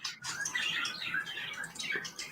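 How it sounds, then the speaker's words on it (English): Small birds chirp and tweet busily together, a bright continuous chatter at moderate distance with no talking. "I hear the birds just chirping away."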